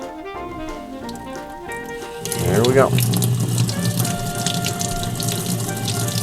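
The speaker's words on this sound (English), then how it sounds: "Yep, it's just washing right off with just the force of the water, taking that black off." Tap water gushes onto metal, rinsing black etching powder off the surface: a steady, close splashing rush that starts abruptly after a quiet moment, with a brief spoken remark over it.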